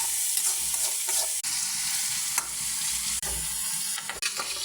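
Tomatoes hit a hot frying tadka and sizzle loudly and continuously, with a few sharp stirring scrapes and clicks over the steady crackle.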